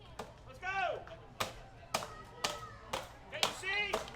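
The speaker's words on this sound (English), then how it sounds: "Blue Crabs fans rhythmically clapping, trying to make some noise and disturb Patrick Kreider" Blue Crabs fans clap in steady rhythm in the stands at a minor league baseball game against the Ducks, even sharp claps about twice a second, with a commentator talking over them.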